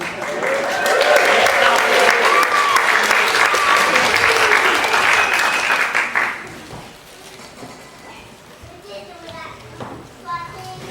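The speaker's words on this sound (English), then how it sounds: "give her a huge round of applause" Loud, dense applause from a crowd at a school playground show for about six seconds, then it fades into scattered chatter and voices.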